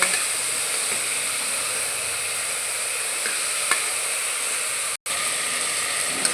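Peanuts sizzle and splatter in hot oil in a pan, giving a close, steady frying hiss with small crackles and spits throughout and one brief dropout.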